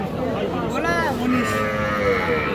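Young heifer calves at a cattle market give short moos and bleat-like calls, a couple of brief cries over constant background talk and crowd noise.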